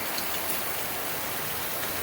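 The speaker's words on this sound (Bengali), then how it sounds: "বৃষ্টির অবস্থা দেখো, বৃষ্টি উড়াই নিয়ে যাইতেছে দেখো।" Heavy rain in a windblown storm, a dense, loud, unbroken hiss of drops pounding surfaces nearby, steady throughout with no voices.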